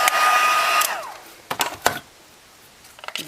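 A heat tool blows a loud, steady whoosh for under a second while heat-setting an embossed card piece. It cuts off, then a few light clicks and taps of paper handling follow.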